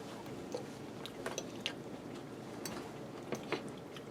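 Close, quiet chewing of the crispy crust of a BBQ chicken stromboli, with soft crunchy bites and wet squishes scattered irregularly across a few seconds.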